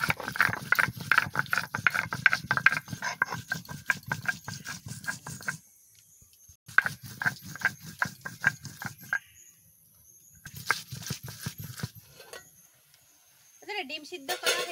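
Cardamom, clove, dried chilli, garlic, ginger and onion are ground in rapid rattling, clicking bursts in a kitchen, the grinding stopping and restarting several times with short pauses between runs.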